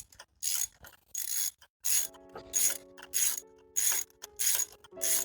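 A ratchet loosens the spark plugs on a Fiat 500 Abarth engine in a rapid series of close, crisp clicking strokes with short gaps between them. A faint ringing tone carries under the clicks, and no one talks.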